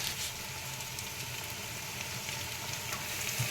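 Ginger garlic paste frying in oil with turmeric for egg biryani, giving a steady close hiss and crackle that holds evenly from start to finish with no talking.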